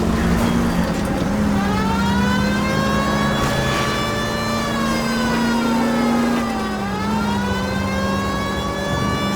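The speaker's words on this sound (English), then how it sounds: "If you use the siren" A police car siren in the video game L.A. Noire wails loudly and up close, its pitch slowly rising and falling over a constant engine rumble.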